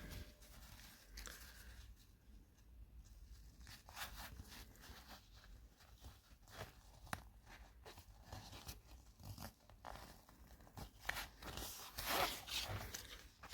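A zipper on a utility pouch being handled during sewing, with faint, close scratchy rasps and small crinkly rubs scattered over several seconds and no talk.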